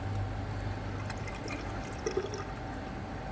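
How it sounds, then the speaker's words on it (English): Water drains steadily down a sink drain into a newly primed trap, a low, constant rushing gurgle at close range with no voices. "Water is running down. We'll do one more glass full."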